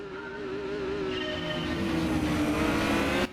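A race car engine from the PlayStation game Gran Turismo 2 drones steadily, its pitch sliding and climbing as revs rise, with a thin tire-squeal edge, moderately quiet and alone without voices.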